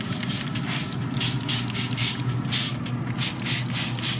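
Ribs on a Big Horn 1093 pellet grill get spritzed from a spray bottle, several short close bursts of hissing spray in quick succession over a low steady fan hum.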